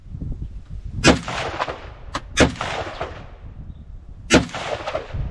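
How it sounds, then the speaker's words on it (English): AK rifle firing at an outdoor shooting range: three loud, sharp single shots about a second apart, then a pause and one more blast, each with a short ringing tail. "Blast off with the AK."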